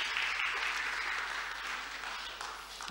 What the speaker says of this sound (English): If we give these guys a round of applause,